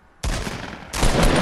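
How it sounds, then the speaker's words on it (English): Heavy video-game gunfire tears into a barn in a loud, sustained burst of rapid shots that suddenly intensifies partway through, with no talk over it. "Shoot that fucking barn down."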